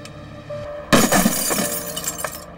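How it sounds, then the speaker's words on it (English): Van window glass shatters in a sudden loud burst as a bomb robot's water cannon disruptor fires a slug into it, followed by shards raining and tinkling down for a second or so. "The technicians then activated the robot's water cannon disruptor, which fires a slug by water pressure rather than gunpowder,"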